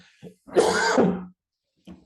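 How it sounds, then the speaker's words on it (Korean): One harsh, throaty cough bursts out close up, with faint short breaths just before and after. "기침이 멈추질 않고 있어요."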